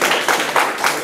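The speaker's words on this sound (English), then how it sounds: "Let's give her a round of applause, y'all" An audience at a Black male development symposium breaks into sustained applause, a dense wash of clapping that swells in several waves over about a second.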